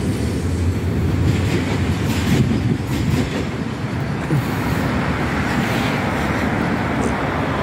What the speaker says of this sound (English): Look the tram.